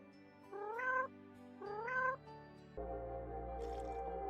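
Two distinct cat meows, each about half a second long, from the snowy hidden-object puzzle game Hidden Winter Cats, sounding clear and close over a soft musical backdrop, followed by a fuller ambient music swell.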